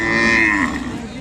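An Ongole breed calf lets out a single drawn-out moo close by, loud at first and trailing off, with no talk over it.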